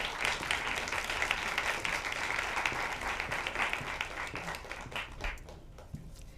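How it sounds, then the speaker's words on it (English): An audience at a film screening and discussion event claps in sustained, dense applause that stays loud throughout, then thins and fades near the end. "let's please give a big round of applause for Nadia Abul-Hajj"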